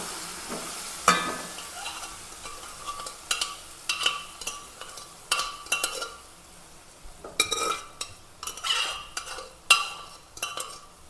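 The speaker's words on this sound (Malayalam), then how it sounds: "ഇതിലേക്ക് വേവിച്ച് വെച്ചിരിക്കുന്ന ചക്കക്കുരു ഇട്ട് കൊടുക്കാം." Cooked jackfruit seeds tossed into a hot pan and stirred, giving a soft sizzle under bursts of scraping and clattering from a utensil against the pan, close and irregular, with no talking.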